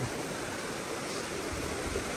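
A muddy, swollen river after heavy rain rushes steadily, a continuous broadband wash of flowing water heard at moderate distance with no talk.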